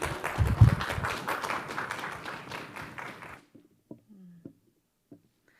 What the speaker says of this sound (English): Round of applause from all of us